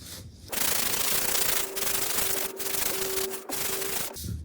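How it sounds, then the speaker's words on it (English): A sanding block rubs lightly back and forth over a gessoed painting panel in steady, close, scratchy strokes with brief pauses between passes. "I'm gonna do just a real light sanding on this"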